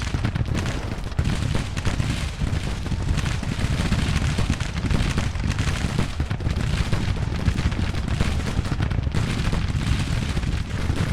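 Continuous roar of massed artillery and musket gunfire on a Civil War battlefield in Grand Tactician: The Civil War, cavalry charging into the guns, a dense unbroken din of booms and crackling volleys.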